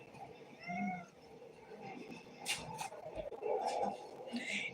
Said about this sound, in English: 3 of my cats have been meowing nonstop.